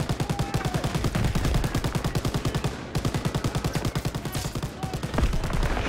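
Sustained automatic gunfire in a Call of Duty: WWII winter battle, rapid regular bursts aimed at a tower, loud and close with brief pauses, with a tank nearby and a voice briefly audible.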